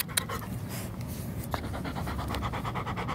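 Dog panting on a walk through a neighborhood, steady rapid breathing held close and continuous for about three seconds, with faint background rustle.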